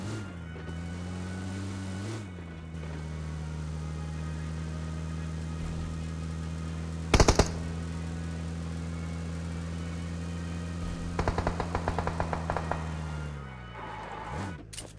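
Enemy gunfire in PUBG Mobile, two sharp bursts of rapid shots, one brief volley midway and a longer rattling string near the end, over a steady vehicle engine drone.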